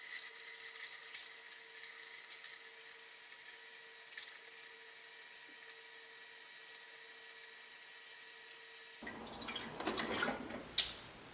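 Water running and dripping from a Whirlpool refrigerator dispenser through a newly installed filter into a glass, starting after a quiet stretch and turning into a fuller, splashing flow near the end, close and moderately loud.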